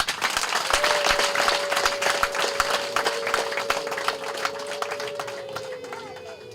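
Wedding guests applaud to welcome an honoured guest, a dense, steady crowd clapping with a sustained voice held over it, and the sound thins slightly toward the end.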